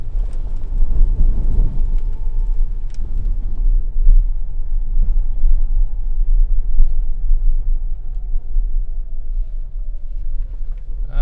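2024 Toyota Tacoma TRD Off-Road crawling over an off-road obstacle, its engine a loud, steady low rumble with faint creaks and knocks from the chassis throughout.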